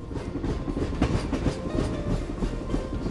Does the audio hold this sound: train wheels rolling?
yes